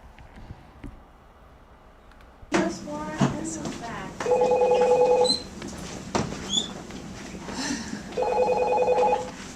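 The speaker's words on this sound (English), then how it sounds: "what he's supposed to do when he answers the phone in Miss Blissman's class" A telephone rings in a classroom, two bursts of electronic ring about four seconds apart, clear and fairly close, with student chatter and classroom noise around them.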